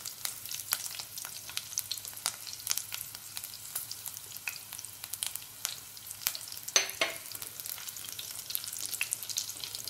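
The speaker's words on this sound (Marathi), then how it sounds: "फोडणीत आपण लसूण टाकूया।" Garlic frying in hot oil for a Marathi tempering, a soft, steady crackling sizzle with faint pops and a scrape of the spoon partway through, heard close and alone.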